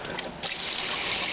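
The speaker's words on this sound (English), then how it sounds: "turn on the water." Kitchen tap running into a sink for dishwashing, a steady close hiss of flowing water that swells slightly after a brief start and continues alone without talk.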